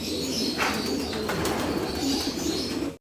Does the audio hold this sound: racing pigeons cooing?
yes